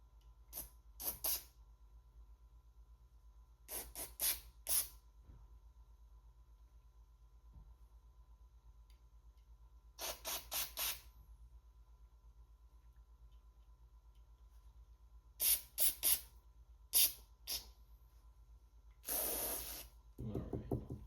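Short, sharp spray bursts hiss in quick clusters during carburetor repair on a vintage Stihl chainsaw, separated by near-silent gaps, ending with a longer spray and a low thump.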